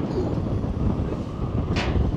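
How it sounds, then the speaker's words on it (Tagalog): Strong wind at a seaside lookout in Busan, South Korea, roars steadily and buffets the microphone with a constant low rumble throughout. "Lumakas yung hangin."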